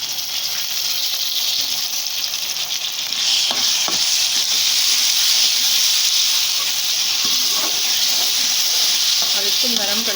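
Tomatoes tipped into a pan of light golden frying onions, a steady bright sizzle that swells when they go in, with stirring scrapes and a voice talking briefly near the end.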